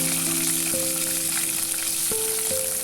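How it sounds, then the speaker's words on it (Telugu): Urad dal, cumin, mustard seeds, dried red chillies, curry leaves and onion fry in hot oil for an Andhra gongura curry. The sizzle is constant and close, with faint sustained tones running underneath. "ఇవి కొంచెం బాగా ఫ్రై అవ్వాలి."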